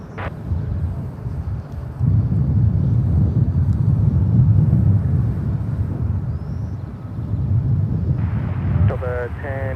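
Jet airliners at San Francisco SFO airport, a distant swelling engine roar with wind noise rising and fading, while radio voices talk over it.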